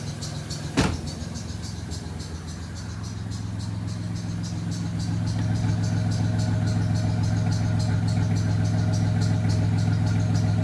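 A 1996 Dodge Grand Caravan minivan engine idles steadily with a low, even rumble and faint rattle, after a brief sharp click near the start; no talking.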